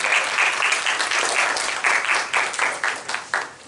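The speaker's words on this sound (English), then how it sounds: "let's give a round of applause for our guests" A seminar audience applauds its guests, a dense, steady round of clapping from many hands at moderate loudness that carries on evenly for several seconds without talk.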